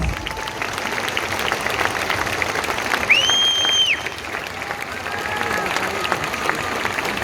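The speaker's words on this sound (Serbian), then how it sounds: "Može još jedan veliki aplauz" A film festival audience in Niš applauds the cast of a feature film, dense sustained clapping across a large hall with a brief whistle-like tone in the middle, no speech.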